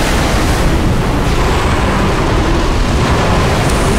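Ocean waves crashing in the horror game Call of Cthulhu, a loud, dense, continuous roar of surf filling the whole stretch with no pauses.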